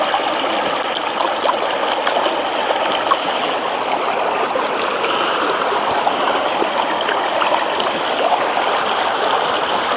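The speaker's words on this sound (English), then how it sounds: "This river's raging now." A river in autumn woods, swollen by heavy rain, rushes loudly and steadily throughout, a dense broadband roar of flowing water without pauses or voices.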